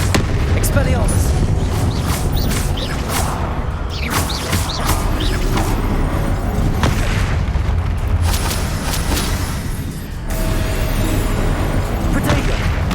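Spell blasts go off in rapid succession during a Hogwarts Legacy duel, a steady barrage of booming impacts and crackling bursts under a voice calling out spell names.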